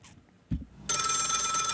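A telephone rings loudly and steadily with a bright electronic bell tone that starts after a short thump and holds to the end, with no talking over it.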